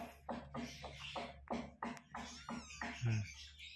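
Five newborn Persian kittens mew in thin, high, overlapping cries, close by and continuous, with soft rustling underneath.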